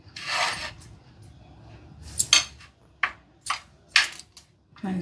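Homemade postpartum spice powder (bālinta kāram) is mixed by hand in a bowl, giving short, separate bursts of rustling, scraping contact, some sharp and clinking, between quiet gaps.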